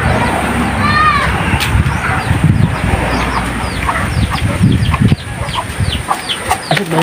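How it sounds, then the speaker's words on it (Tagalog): Chickens in a barangay village in Sulat, Eastern Samar, with clucks and a possible rooster call among other bird chirps over steady outdoor ambience and low background noise; a person speaks briefly. "Manok."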